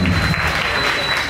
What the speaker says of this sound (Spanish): un aplauso, un aplauso para la madre del año.